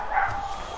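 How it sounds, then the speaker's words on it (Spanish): A small female dog gives a short, sharp bark close by, a single brief yelp that overlaps a voice talking. "si es un super ladrido es de mi perrita"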